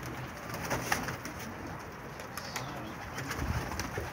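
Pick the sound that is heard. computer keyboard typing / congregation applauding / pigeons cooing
pigeons cooing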